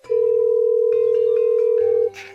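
A phone rings with an incoming call, sounding as a loud, steady electronic tone with a shifting melodic pattern. It cuts off after about two seconds.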